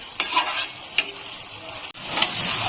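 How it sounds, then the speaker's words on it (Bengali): Banana stem frying dry in a pan with a soft hiss, broken by a few sharp scraping stirs of a utensil against the metal. "শুকিয়ে পুরো ভাজা ভাজা করে ফেলবো"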